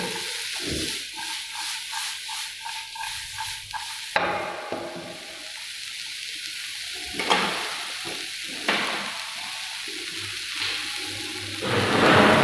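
Zucchini with red and yellow capsicum sautéing in a pan, a hissing sizzle broken by bursts as vegetables are added and stirred, with scraping and crackling swells recurring throughout.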